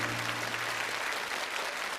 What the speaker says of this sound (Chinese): 再一次把掌声送给这2个可爱的孩子。